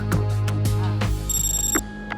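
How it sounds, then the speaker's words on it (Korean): A telephone rings with an incoming call, a bright electronic trill over a steady background hum indoors. "그 후 명철 씨로부터 카드 비밀번호를 묻는 전화가 걸려왔습니다"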